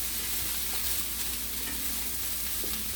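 Broccoli and minced garlic sauté in a hot pan with a steady, dense sizzle that runs unbroken for the whole stretch, close and moderately loud, with no voices.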